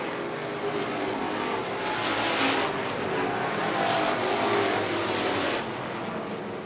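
Super street race cars run a short-track oval race at Market 27, a continuous, fairly distant engine roar with swells as the pack passes.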